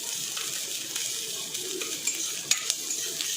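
Asafoetida (hing) frying and being stirred in a pan, a soft steady sizzle with a few light scrapes and clicks of the spoon, no talk.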